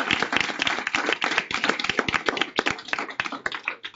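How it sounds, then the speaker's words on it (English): A crowd applauds after a Pride Night announcement at a New York Mets event for Citi Field, with dense, steady clapping that is fairly close and carries on without a break. "That is something worthy of applause"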